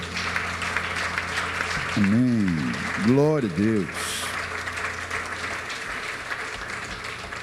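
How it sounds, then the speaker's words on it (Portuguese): A church congregation applauds during a worship service, a steady wash of clapping that runs underneath a preacher's voice, with people speaking over it throughout. "Você tem um aplauso para dar ao Senhor?"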